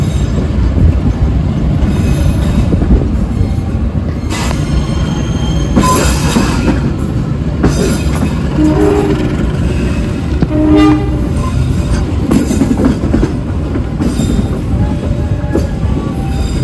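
Passenger train in motion, with loud steady rumble of wheels on rails, repeated clattering, squeals and intermittent horn toots over about seventeen seconds, heard from on board.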